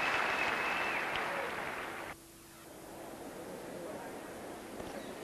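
Spectators at a men's tennis match between Edberg and Henman applaud after a point, a broad wash of clapping that drops off abruptly midway and leaves a quieter, noisy crowd ambience.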